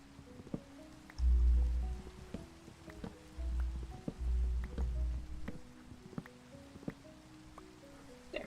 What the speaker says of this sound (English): I do like working in the rain. I like the sound of it.